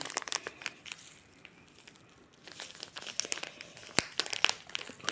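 A plastic bag crinkles and rustles as it is cut open while making a Turkish milk pudding, in irregular bursts of close crackling with a quieter pause in the middle.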